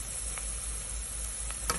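Onions frying over a medium flame in a pan while being stirred constantly, a continuous close sizzle with a few faint scrapes and taps, and no speech.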